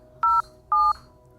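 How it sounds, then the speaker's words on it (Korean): Two clear electronic beeps from a mobile phone keypad as numbers are pressed, evenly spaced, each short and steady, close and crisp over a quiet background. "휴대폰으로 경찰에 신고하려고 전화번호를 누르는데"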